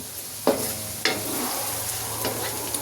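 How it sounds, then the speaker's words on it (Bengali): Coriander leaves with their stems frying in a pan, a steady sizzle broken by a few sharp stirring scrapes, close and clear with no voices. "এখন এর মধ্যে আমি একটু ডাটা সহ ধনে পাতা দিচ্ছি, এটাকেও আমি এর সাথে ভেজে নিই"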